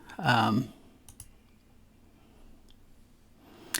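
A computer mouse gives a couple of soft, sharp clicks after a short burst of speech, with a faint click near the end in a quiet room.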